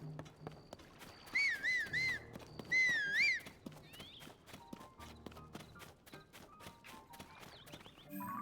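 Rhythmic hoofbeats of a horse in the video game Zelda: Tears of the Kingdom clip-clop steadily throughout, with warbling tonal sound effects and faint music layered over the galloping.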